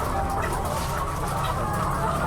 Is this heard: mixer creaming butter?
no